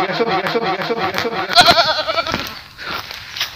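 A goat bleats repeatedly at close range in a wooded riverside spot, with loud wavering cries filling the first half, then fainter calls and rustling as a person's voice joins in.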